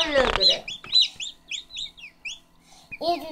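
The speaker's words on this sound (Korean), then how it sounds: "얘도 나오려고 그러고 얘도 나오려고 그래, 기철아." Newly hatching chicks from eggs meant for frying cheep in a quick series of high, bright peeps, close and clear, with a voice speaking briefly at the start and end.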